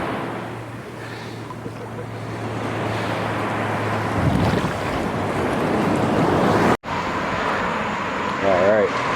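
Ocean surf in Florida washes steadily around someone wading in the water, a continuous rushing wash with wind buffeting the microphone and a brief dropout.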